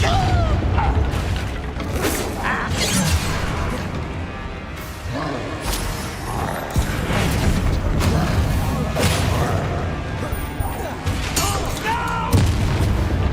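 Repeated booming spell blasts and crashes from Hogwarts Legacy combat, loud and dense with sharp impacts every second or two over a constant rumbling battle bed, with a voice calling out between them.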